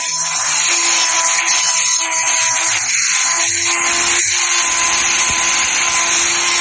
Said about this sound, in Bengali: এরপর আমার গ্রিন্ডিং মেশিন দিয়ে আশেপাশে গর্তের আশেপাশে আর একটু কেটে নিলাম।